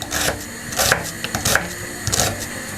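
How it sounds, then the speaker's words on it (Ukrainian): Knife slicing onion into half-rings on a wooden cutting board, a series of crisp chopping taps in uneven rhythm, close and moderately loud with no talking. "Цибулю нарізаю не мілко, десь ось такими напівкільцями."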